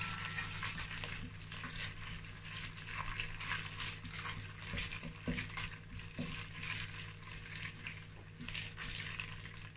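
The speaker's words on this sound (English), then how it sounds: "I'm going to fry this so 2 to 3 minutes, about 3 minutes" Food frying in a pan while a holiday recipe is cooked, a steady close broadband sizzle with faint stirring and clinks running throughout, with no talking.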